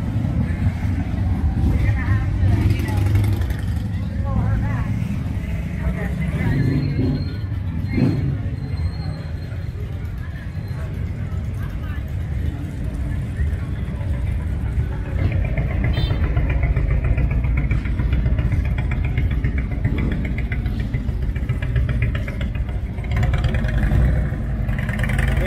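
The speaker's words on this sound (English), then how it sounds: "Every couple of minutes pass by, there's badass bikes coming down the pipes." Motorcycles rolling past on a road during a bike festival, engines rumbling near and then fading, with constant crowd chatter and people talking throughout.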